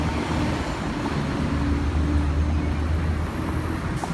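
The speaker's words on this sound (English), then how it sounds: "So with the background traffic and noise, I'm going to limit the narration for a little bit here" Steady road traffic noise during a bike ride, a continuous rumble of passing cars and engines nearby that swells slightly in the middle, with no talking.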